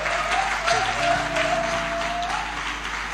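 A church congregation applauds with steady, sustained clapping that fills the room, while a sustained tone, likely from a keyboard or organ, plays underneath.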